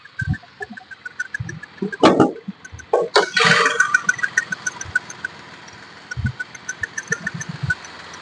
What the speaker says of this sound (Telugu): ఇది డీజిల్ బండి అండి, డీజిల్ ఇంజిన్ వస్తుంది దీనికి.